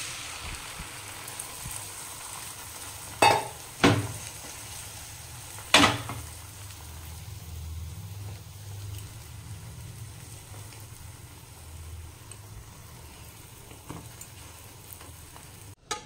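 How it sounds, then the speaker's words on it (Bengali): Egg frying in melted butter, a steady low sizzle with a few sharp clacks of a utensil against the pan early on, then a continuous crackle alone. "বাটারটা গলে গেছে, বা ডিমটা দিয়ে দিচ্ছি।"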